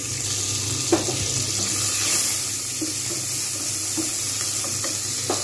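Green chillies frying in oil in a pan for a moringa-stick masoor dal, a constant hiss with a low background hum and scattered soft ticks, and no voices.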